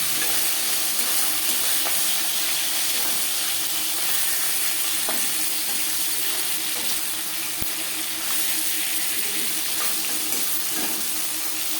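Bhangor fish fry in oil in a pan, giving a steady, close sizzle that continues without a break, with a few light clicks of handling.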